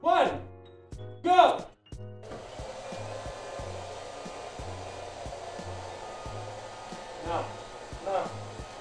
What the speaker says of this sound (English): we're starting Roomba